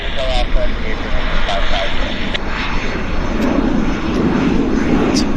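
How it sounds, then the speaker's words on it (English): A small regional jet of the family that led to the CRJ airliner passes at an airport, its engines producing a steady, loud broadband roar throughout with a rising rumble toward the end. "This is, of course, a derivative from which they developed the CRJ airliners."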